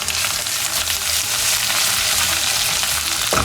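Turmeric and crushed chili frying in hot oil over a low flame, a loud, dense, continuous sizzle close up with a steady hiss and no voices.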